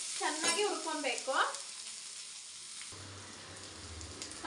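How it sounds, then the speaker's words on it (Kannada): Onion, garlic and coconut roasting in a pan for sambar give a steady close sizzle and scraping stir, with a lower, quieter frying hiss after a brief pause. "ಚೆನ್ನಾಗಿ ಹುರ್ಕೊಂಡು ನಿಮ್ಗೆ ಅದು ಸ್ಮೆಲ್ ಬರುತ್ತಲ್ಲ ಹಸಿ ಸ್ಮೆಲ್ ಅದು ಹೋಗೋವರೆಗೂ ಚೆನ್ನಾಗಿ ಹುರ್ಕೊಬೇಕು."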